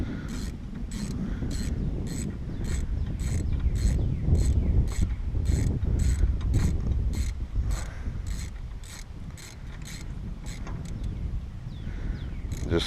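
A ratchet wrench clicks in a rapid, even series while nuts are worked on a 1988 Lincoln Town Car, close and clear over a dull background rumble.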